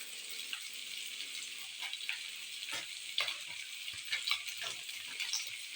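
Fried drumsticks and potatoes stirred with spices in a pan, with a faint, steady sizzle and soft scraping taps from the stirring spoon.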